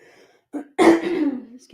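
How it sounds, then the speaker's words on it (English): A single harsh cough bursts out close by after a brief throat sound, trailing off into breathy rasp. "as soon as I start talking, I start coughing"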